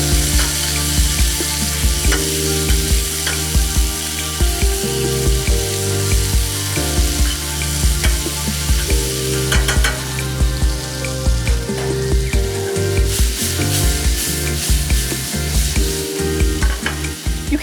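Onions fry in olive oil in a hot pan, a loud, constant sizzle with repeated clacks of a utensil stirring and scraping, the sound close and continuous throughout.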